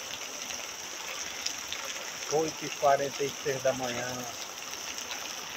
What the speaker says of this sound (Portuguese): Eita, que é muita chuva em Fortaleza,